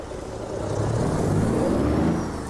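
A heavy truck engine in American Truck Simulator, a modded Ruda 389 hauling lumber on a stepdeck trailer, rises into a steady loud whir as it pulls away, holding a constant drone throughout.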